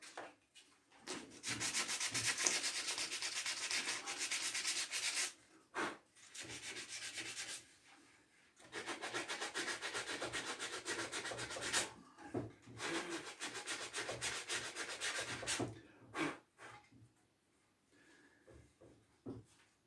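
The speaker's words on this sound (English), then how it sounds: "But I'm reaming that out a little bit." Bursts of dry scraping and rubbing against wood as a peg hole is reamed out on a rocking chair rocker, in several long stretches separated by brief pauses. No one speaks.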